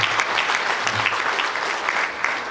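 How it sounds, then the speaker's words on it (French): Warm, continuous applause rises from the audience at an academic tribute gathering, a crowd clapping together for the organizing colleagues, steady and moderately loud. "Je souhaite qu'on applaudisse mes collègues."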